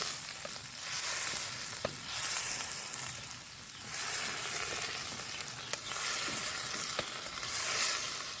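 Tomatoes and peppers sizzle and fry in a pan on a portable camping stove outdoors, with a steady hiss broken by scraping stirs and occasional clinks of the utensil against the pan.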